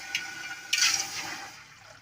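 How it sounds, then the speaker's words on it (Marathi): Water poured from a tumbler onto rice makes a brief splashing gush, a short tap followed by a louder pour that fades after about a second, quiet and close. "तीन तांब्या पाणी टाकून घेणार आहे"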